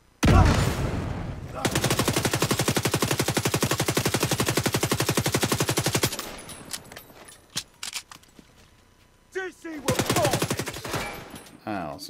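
Player gunfire in The Division 2 during a co-op mission: a sustained, loud, rapid automatic burst lasting about four seconds, followed by scattered single shots and then a second shorter burst.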